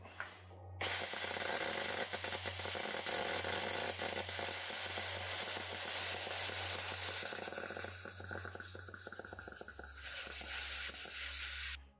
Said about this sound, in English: I'm going to grab my plasma cutter and I'm going to cut all my corners